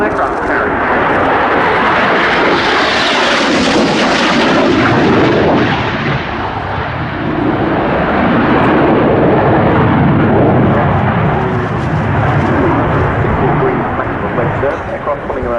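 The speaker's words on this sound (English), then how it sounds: "Aircraft coming around 6G at the apex." A display jet roars loudly and continuously overhead at the RAF Fairford air show, pulling around hard at about 6G. The thick engine rumble swells and shifts as it passes, with a commentator's voice faintly beneath.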